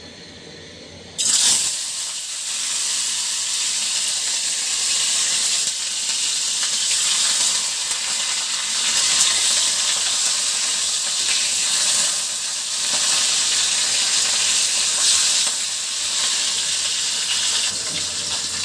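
Pieces of large fish go into a hot wok of oil for a fish bhorta, and after a second of near quiet a loud hiss bursts up and settles into continuous close sizzling.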